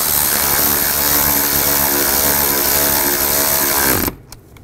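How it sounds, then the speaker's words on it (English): Steady loud whine of a cordless power tool driving a bolt down on a Nissan variable valve timing solenoid, continuous and close, cutting off abruptly near the end. "Tighten the bolt down."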